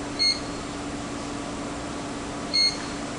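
An ESD workstation monitor sounds its alarm when an ungrounded light is touched: two short, high electronic beeps about two seconds apart over a steady hum of room noise.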